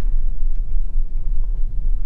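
Electric car such as a Tesla Model S, Model 3, Model X, Audi e-tron or Jaguar I-Pace, driving at about 10 mph during an automatic emergency braking test, gives a steady low rumble of road and tire noise without talk.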